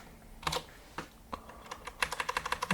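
Keys clatter on a computer keyboard during a short burst of typing, a few scattered strokes first and then a quicker run of clicks, close and fairly quiet, with no talking.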